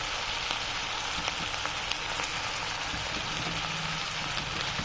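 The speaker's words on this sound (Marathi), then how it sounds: "कढीपत्ता पण फ्राय झालाय।" Curry leaves fry in hot oil in a pan for an eggplant dish, producing a dense, continuous hiss at steady loudness with faint tiny crackles and no talk.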